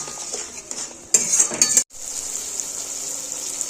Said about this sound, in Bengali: এবার মশলাটা কিছুক্ষণ একটু আগে কষিয়ে নেব।